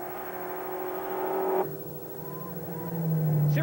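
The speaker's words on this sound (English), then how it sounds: "he's doing it by keeping full power as he slides into the turns" A Chevette race car on an ice track slides through a turn at full power, its engine whining steadily and shifting pitch as it drifts, fairly close and alone without talk.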